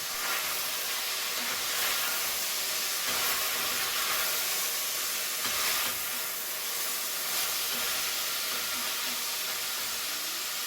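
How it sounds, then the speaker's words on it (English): Pork searing in a pot gives a steady, close, broadband sizzle and hiss that runs unbroken for about ten seconds as it is stirred, with no voices. "Now we give it the first stir."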